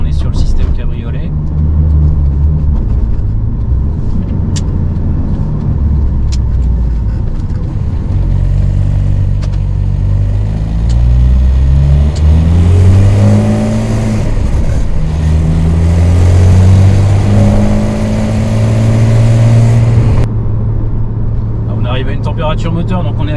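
Twin-turbo convertible car engine at about 80 degrees water temperature, revving and accelerating close by in a workshop, with a loud low rumble, rising and falling revs and audible turbo whoosh, then easing off near the end.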